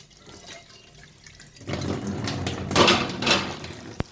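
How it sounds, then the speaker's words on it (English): Sandwich maker parts, a Sokany 3-in-1 breakfast maker, washed under a running kitchen tap, water splashing and gurgling into the sink with a few clinks, louder in the second half, ending in a sharp knock. "I'm done with washing and drying every part of the sandwich maker"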